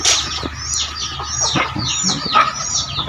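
Chicks a few days old chirp in quick, high, overlapping peeps, close and fairly loud, with a faint clucking hen alongside.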